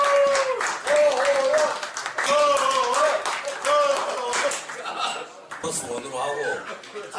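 Clapping rises for a former sixth president of the Boseong High School Ilsan alumni association at a year-end general meeting, in bursts under a voice that keeps talking over it.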